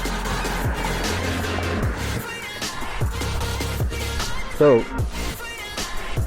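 A Super73 electric bike rolls down a road at around 16 mph, with a steady loud rush of wind and road noise throughout and a brief spoken word near the start.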